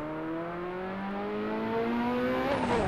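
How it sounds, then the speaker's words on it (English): A Ferrari in the racing game Assetto Corsa revs hard, its loud engine note climbing steadily through the gears in a sustained, rising whine with rich harmonics, close and continuous with no talk. "Really a nice car. And also a very loud car."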